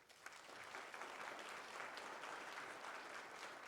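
A conference audience at a Colorado opioid abatement event applauds its panelists with a soft, even wash of clapping that holds steady for nearly four seconds and sounds distant.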